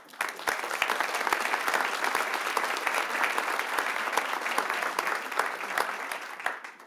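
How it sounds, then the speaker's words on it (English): Steady audience applause for departmental employee award recipients at a city council meeting, a dense continuous clapping with sharp individual claps standing out, fading slightly at the end. "let's give another round of applause to all of our departmental award recipients"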